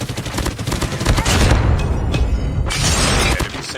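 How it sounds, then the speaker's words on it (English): Heavy gunfire and destruction in a multiplayer shooter as an enemy sentry gun is destroyed: a dense, loud barrage of shots and crashing impacts filling the whole stretch. "Enemy sentry gun has been destroyed."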